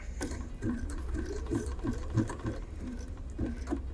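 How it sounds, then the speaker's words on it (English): A Bernina sewing machine stitches a heart pattern with a rapid, even mechanical whirr and rhythmic needle clatter, close and steady throughout. "You can press that anytime when you're stitching your last basic heart unit."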